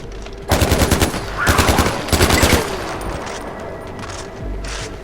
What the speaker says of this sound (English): We'll use the shitty assault rifle.